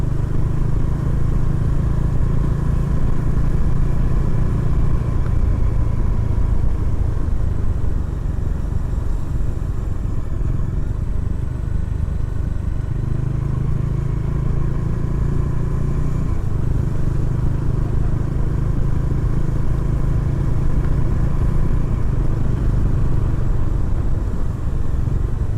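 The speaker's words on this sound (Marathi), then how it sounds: "ही गाडी चालवायला मजाच वेगळी आहे. पॉवर आहे, पिकअप आहे" A Bajaj Dominar 400 motorcycle being ridden, its engine a steady, loud, continuous rumble with road and wind noise throughout, no speech.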